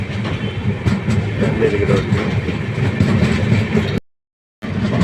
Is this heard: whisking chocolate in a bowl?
no